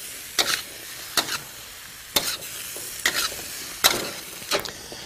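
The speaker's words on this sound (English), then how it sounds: "continue cooking, stirring every now and then till the zucchinis are soft" Zucchini and tomatoes cooking in a wok with a gentle background sizzle, broken by about six quick scraping stir strokes at a slow, regular rhythm. The sound is close and there is no speech.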